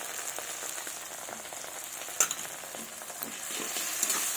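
Ground spice pastes of dried chilli, ginger, cumin and coriander fry in a pan for a Bengali fish-head moong dal dish, a steady close hissing sizzle with a few sharper crackles and stirring scrapes.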